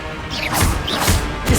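Depulso spell strikes in the Hogwarts Legacy video game: a few sharp, forceful smashing impacts land in quick succession, loud and close over a busy combat background.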